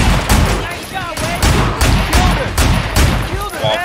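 Revolver fire in the video game Sleeping Dogs: a rapid string of about eight to nine loud, sharp shots at a fairly even pace, close by, with voices mixed underneath.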